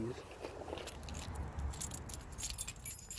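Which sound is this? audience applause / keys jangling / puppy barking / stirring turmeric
keys jangling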